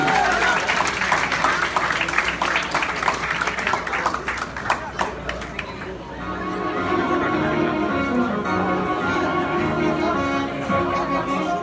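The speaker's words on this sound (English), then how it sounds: "Let us again give them a big round of applause and welcome them to the party." Guests at an Indian family wedding dinner give the newly married couple a sustained round of applause with crowd chatter, loud and dense for about six seconds, then the clapping gives way to music filling the hall.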